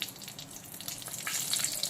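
Two dried red chillies fry in leftover mustard-style fish-frying oil, making a close sizzling crackle with bright pops that gets a little louder toward the end, with no one speaking.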